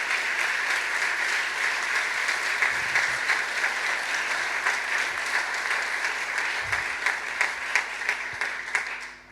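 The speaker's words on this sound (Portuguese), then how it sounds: "Uma salva de palmas para vocês, meus queridos." Sustained applause from an audience at a closing session, many people clapping steadily with a few sharper individual claps standing out, continuing loudly throughout before tapering slightly at the end.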